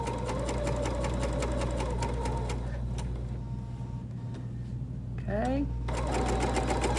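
A sewing machine stitches around a folding wallet, a fast steady mechanical whir close by that pauses briefly for a pivot before resuming, with a short spoken word.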